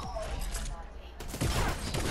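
Minigun fire in the Fortnite video game, rapid dense bursts of gunfire, louder and harsher in the second half, with voices faintly in the background.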